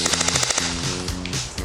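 Airsoft guns firing during an outdoor airsoft battle, a rapid close run of repeated shots in quick rhythm, loud and steady throughout the short burst.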